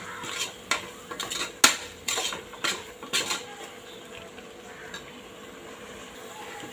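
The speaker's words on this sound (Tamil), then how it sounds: "இப்போ நம்ம கட் பண்ணி வச்ச காளானை சேர்த்துக்கலாம் கொஞ்சம் நல்லா கிளறி நம்ம மசாலாலாம் அதோட சேர்க்கும்" Mushrooms with masala get stirred in a pan: a series of metallic clinks and scrapes from a utensil against the pan in an uneven rhythm, with faint frying beneath that settles toward the end.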